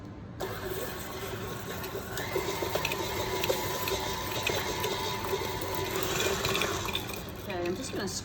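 An electric mixer creams butter and sugar in a bowl for sablé dough. It gives a steady motor whir with a faint rattle that runs unbroken for about eight seconds at moderate volume.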